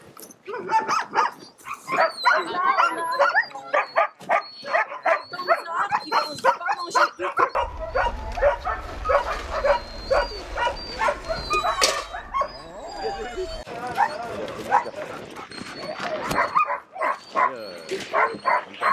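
Sled dogs bark, yip and whimper excitedly in a chorus of many close and distant voices while awaiting their soup meal, with a person speaking over the din at times.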